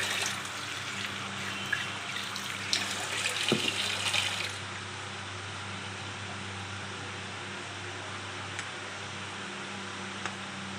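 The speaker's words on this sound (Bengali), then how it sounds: "তারপরে এর মধ্যে দিয়ে দেব জল।" Water pours from a tap into flour dough mixed with salt and oil, a steady splashing stream for a few seconds that then cuts off, leaving a quiet hum behind.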